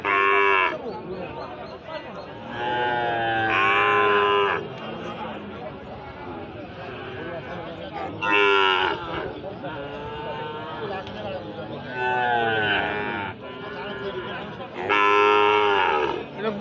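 A Sahiwal bull at a village cattle market gives several loud, drawn-out moos, spaced a few seconds apart, with people chatting and haggling in the background between calls.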